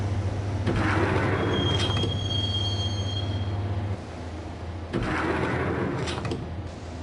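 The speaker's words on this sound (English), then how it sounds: "the train doors had already shut behind me, and I was in for the ride" Subway train ride in the Max Payne video game: steady rumbling carriage noise with long metallic wheel squeals, a low hum dropping away midway, then another swell of rolling rail noise; no speech.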